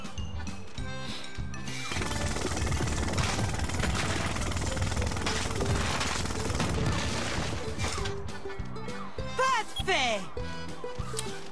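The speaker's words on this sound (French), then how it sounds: "Allez, marteau-piqueur, on taille tout." Rapid rattling jackhammer bursts breaking rock in a Paw Patrol Lego game, loud and sustained over a bed of game music, ending with a few chiming effects.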